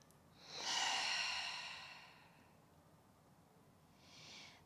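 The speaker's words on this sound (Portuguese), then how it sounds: "tomando uma inspiração bem profunda pelas narinas. Expira, solta o ar." A slow, deep breath drawn in through the nose during a restorative yoga session, swelling over about a second and fading gradually, then a softer, shorter breath follows near the end. Close and quiet, with no talking.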